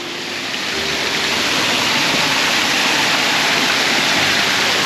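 A waterfall at overgrown ancient ruins pours in a steady, loud broadband rush that holds unbroken throughout, close by and with no voices over it.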